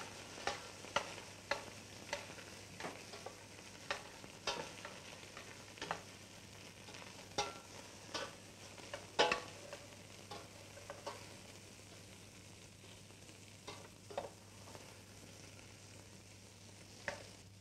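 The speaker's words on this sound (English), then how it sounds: "Diced celery root and onion are also sautéed." Diced celery root and onion sauté in a pan for an Austrian oxtail dish, a faint, steady sizzle punctuated by irregular scrapes and taps of a stirring utensil, with no voices.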